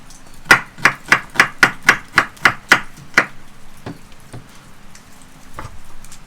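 A knife chops vegetables rapidly on a cutting board, about ten crisp, even strokes, then a few softer scattered taps as it trails off.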